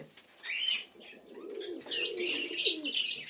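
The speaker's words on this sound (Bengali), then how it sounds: "এগুলো সব বাড়ির ওড়াই পায়রা।" Domestic flying pigeons of the Kaldoma type coo in low, soft murmurs while sharper bird chirps and tweets break in above, with an occasional brief flutter of wings, all close by and without talk.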